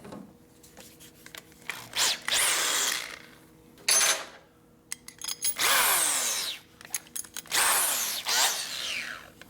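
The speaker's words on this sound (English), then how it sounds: "Don't drill out the wrong one." Bursts of power drilling whine in and out over several seconds while working on a 1957 Harley-Davidson Panhead engine, with short pauses between runs and rising pitch sweeps as the bit spins up.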